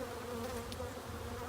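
Carnica honey bees in a hive give a dense, continuous buzzing drone, close and steady, with no voices over it.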